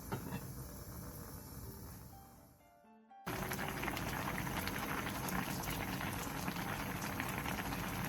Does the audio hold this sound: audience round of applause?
no